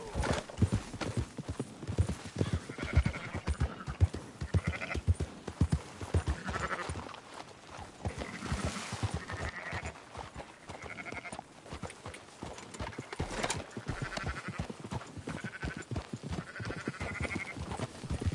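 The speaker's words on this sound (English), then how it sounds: "Marston, why don't you leave the sheep to me?" Sheep bleat and horse hooves clip-clop steadily on a farm in the video game Red Dead Redemption 2, the bleats repeating over continuous trotting with no talking.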